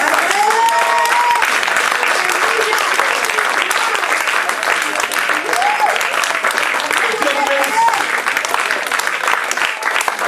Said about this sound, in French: il faut que toute la salle s'élève en acclamation